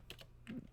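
Two quick computer keyboard clicks on the plus key in a quiet room, crisp and close, followed by a soft thump.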